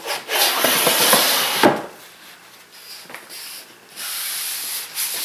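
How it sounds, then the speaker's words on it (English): Wood sanded by hand for a Festool MFS box gives a steady, close rasping scrub that pauses briefly, then resumes in loud rubbing strokes. "So a little more sanding to do."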